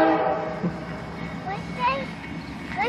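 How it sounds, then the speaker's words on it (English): A train passes at a railroad crossing in Fostoria, Ohio, with a horn sounding in several short bursts over a steady rumble of rail traffic. "It's a train. Here's the crossing."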